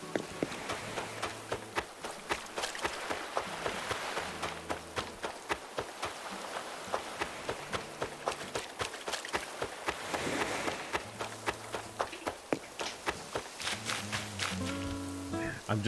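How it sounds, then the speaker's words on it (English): Soft, steady patter of rain in Animal Crossing: New Horizons with a simple repeating tune playing underneath, gentle and continuous. "I'm glad it's raining today."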